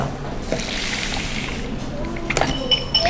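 Water is poured out over oyster mushrooms into a sieve in a Korean home kitchen, with a steady close splashing and trickling run that has a few brief clinks and sloshes near the end.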